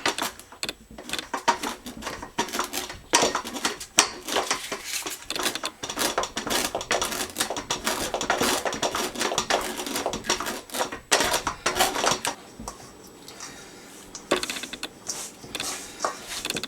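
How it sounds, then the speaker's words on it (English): A stick of frozen butter scraped over a grater in rapid, rhythmic rasping strokes for scone dough, close and fairly loud, with a short pause near the end. "Grate in 1 stick of frozen butter."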